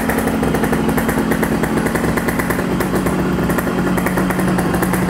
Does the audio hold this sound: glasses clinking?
no